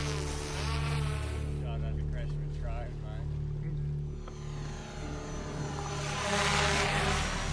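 A camera drone's high buzzing whine hums steadily over a trimaran anchored in Phang Na Bay, with people talking throughout and the rotor pitch swelling louder near the end.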